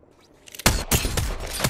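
Rapid gunfire bursts in the Apex Legends video game, a quiet lead-in giving way to loud, dense shots at about two-thirds of a second that keep hammering on without pause.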